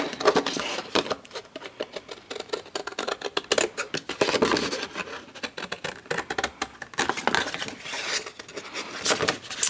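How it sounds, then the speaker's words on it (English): Scissors snip through paper in quick, irregular bursts of crisp cuts, close up, with short pauses between runs of snipping and no talking. "So instead of getting my paper trimmer out, I'm just going to use my scissors."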